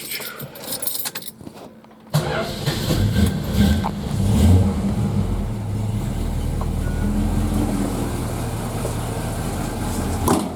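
Keys jangle briefly before a 1971 Dodge Charger engine bursts to life and revs, then settles into a loud, rumbling run close by that holds to the end.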